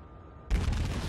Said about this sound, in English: The volley is out,